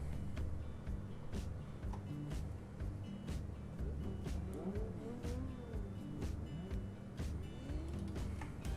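Race car engines rev in a racing video game at Monza with RLS GT-250 cars: a continuous, fairly quiet drone of engine noise with rising and falling revs and occasional sharp clicks.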